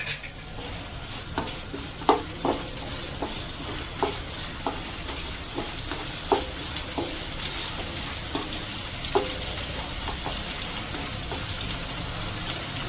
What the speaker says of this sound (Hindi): अभी स्टार्ट करेंगे गैस ऑन करके। अनियन और हरी मिर्ची डाल दी मैंने।